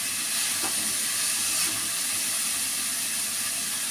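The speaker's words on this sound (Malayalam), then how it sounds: "ഇനി വഴന്നോട്ടെ, വഴന്ന് വരട്ടെ." Vegetables sauté in a pan with a steady, even hiss of steam and sizzle, moderately close and uninterrupted.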